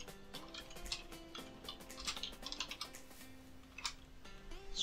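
Someone types a search on a computer keyboard, a quick, quiet run of irregular key clicks close to the microphone, with a faint melodic tone running underneath.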